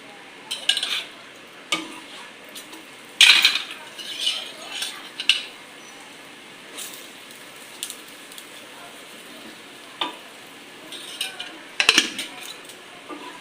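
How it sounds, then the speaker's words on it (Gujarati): Paneer parathas fry in sunflower oil in a pan, with scattered metal clinks and scraping of a spatula over a faint, steady sizzle. The sounds come in irregular bursts, close by, with no talking. "પહેલાં થોડુંક તળી નાખીએ તો તેલથી તળવાના છે મસ્ત સનફ્લાવર તેલ છે"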